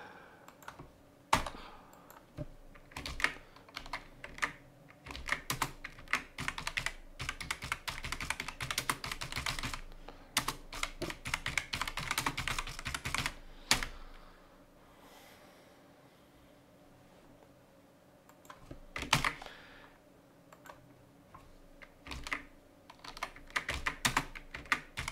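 Steady typing on a computer keyboard while entering Python code, with bursts of rapid key clicks, brief pauses and a quieter stretch in the middle, close and clear.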